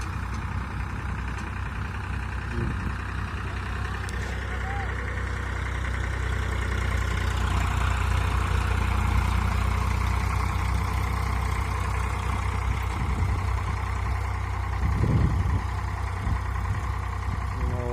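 A tractor engine idles steadily nearby with a low, constant rumble, swelling slightly midway, with a couple of brief knocks and clanks.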